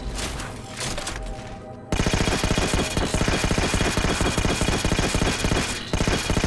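A heavy-recoil weapon in the Halo 4 campaign fires nonstop rapid automatic bursts, loud and close, with one brief break near the end.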